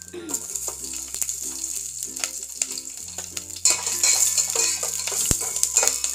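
A spatula repeatedly scrapes and stirs chicken yakhni frying in a pan, a rhythmic clatter over a steady sizzle that grows louder and fuller halfway through.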